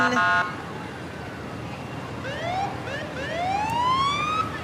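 A fire engine siren from Waupaca engine 917 in a Fourth of July parade in Wisconsin wails in rising sweeps, moderately loud over steady crowd and street noise, after a short horn-like blast at the start.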